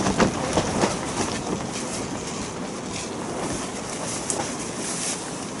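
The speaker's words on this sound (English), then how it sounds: "You're going to have to excuse the wind noise." Wind buffets a microphone outdoors at an allotment, a steady, rough broadband roar with gusty swells and no voices.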